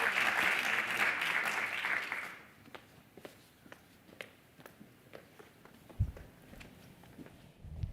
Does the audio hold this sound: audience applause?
yes